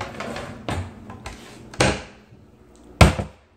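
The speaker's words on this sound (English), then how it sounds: "These drawers seem to be fine." Kitchen cabinet drawers, greasy on the outside, are pulled open and pushed shut during a move-out inspection of an apartment kitchen, giving three distinct wooden knocks and slides spaced about a second apart, close and fairly loud.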